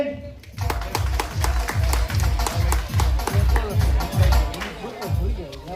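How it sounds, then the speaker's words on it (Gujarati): An audience applauding at a Dr. B.R. Ambedkar Jayanti celebration, a loud rhythmic burst of clapping in steady unison beats, with crowd murmur underneath. "તો જોરદાર તાળીઓ બાબા સાહેબ માટે"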